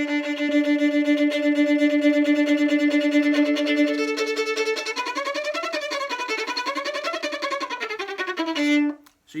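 A violin played with sautillé bowing gives rapid, evenly bouncing short notes, first repeating one pitch, then moving through a quick shifting melodic pattern before stopping.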